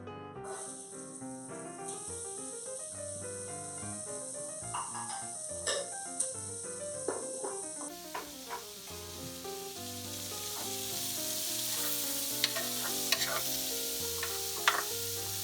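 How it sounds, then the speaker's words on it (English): Onions and celery fry in turkey pan drippings, giving a steady sizzle with occasional stirring clicks, while music plays underneath throughout. "we're going to put a bowl of onions and celery into the pan drippings"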